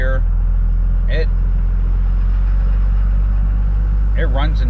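A Cummins diesel pickup truck cruising slowly up and down a street, its deep engine rumble loud and steady throughout, with someone talking briefly over it.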